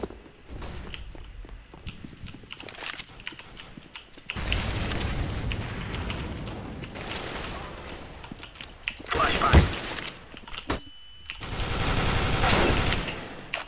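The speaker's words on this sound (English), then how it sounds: "Deploying flashbang." Gunfire, bursts and a loud blast in Counter-Strike: Global Offensive during a competitive bombsite attack, with a flashbang going off amid rapid shots, footsteps and a voice speaking briefly over the action.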